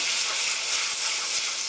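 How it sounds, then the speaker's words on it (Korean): Boiled glass noodles stir-fry for japchae with a loud, continuous dense sizzle and hiss, a few faint spatula taps under the steady frying noise. "오글오글하게 될 때까지 볶아주세요."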